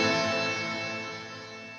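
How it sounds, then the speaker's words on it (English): An instrument played with a reverb effect turned up to full level, its sustained tones washing into a long, smooth decaying tail that fades slowly and steadily with no talking. "Yeah, that's very reverby."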